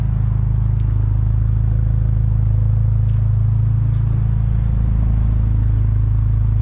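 A steady, deep exhaust drone from a car fitted with an ultra quiet resonator and a Tomei muffler idles continuously at close range, a smooth low rumble with no voices.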